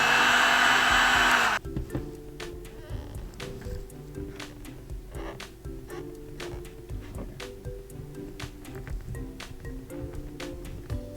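A heat gun warming the edges of a vinyl skin wrap on an iPhone 6s, its loud steady blowing roar running briefly before cutting off, followed by quieter handling noise of the wrap being worked.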